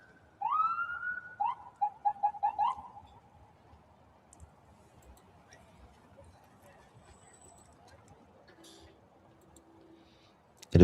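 Emergency siren from an ambulance or fire truck near burning brush in San Antonio, Texas: a loud wailing, warbling tone for about two and a half seconds, then faint distant rumble and a soft tonal trace later.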